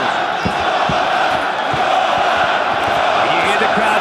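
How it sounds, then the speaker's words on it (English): A large arena crowd at an M-1 Global mixed martial arts fight roars continuously, urging on Fedor Emelianenko against Jeff Monson, a loud, dense wall of shouting and chanting throughout. "And you hear the crowd now urging on their living legend, Fedor Emelianenko."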